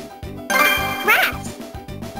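Cartoon duck quack from the Bubble Guppies DS game, a short nasal call cutting in over rhythmic looping game music.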